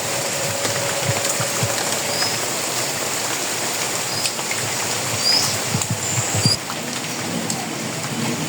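Heavy rain pours down in a steady, dense hiss, with scattered louder drops and patters, continuous and fairly close with no talking.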